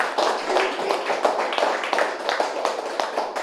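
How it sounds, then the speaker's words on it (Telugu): A crowd claps steadily at an indoor gathering in Hyderabad, a dense, continuous patter of many hands ringing out loud and even for the whole stretch with no voices over it. "ఒకసారి ఈ ఎక్హార్ట్ టోల్ మాస్టర్కి ఒకసారి గట్టిగా చప్పట్లు కొడదాం"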